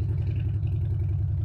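Old Mack truck engine idling with a deep, steady low rumble and slight mechanical clatter, close and continuous throughout, with no clear rise in revs.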